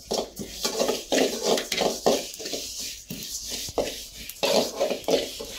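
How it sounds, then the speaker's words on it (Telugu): Sesame seeds roasting in a pan while being stirred continuously, giving a close, dry rustling scrape with a steady rhythm of strokes and faint crackle underneath. "అట్లా కలబెట్టుకుంటూ వేయించుకోవాలి"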